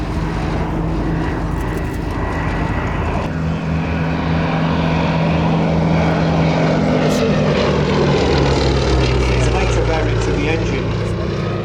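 A propeller biplane at the Shuttleworth airshow drones loudly overhead, its engine roar steady and heavy, shifting pitch as it passes, with a commentator speaking over it.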